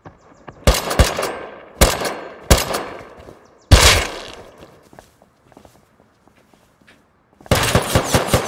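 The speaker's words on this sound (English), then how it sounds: "I'm getting fucking shot at" Automatic gunfire in the survival game Rust, loud, close bursts in quick clusters, then a quiet stretch and a final rapid volley, with no talking.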